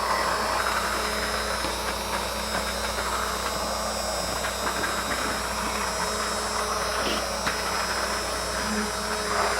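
A steady mechanical whir of an appliance beating no-egg mayonnaise until it thickens, running continuously and fairly loud with no pauses.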